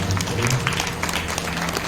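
Loud applause from a devotional gathering at a Bhagavata katha recitation, welcoming a guest, a steady wash of clapping with some background hum and murmur throughout.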